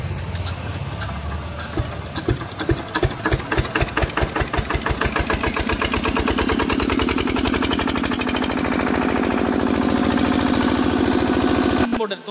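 An electric generator engine, started after a long idle, coughs through a fast run of pulses and then settles into a loud, steady mechanical running drone.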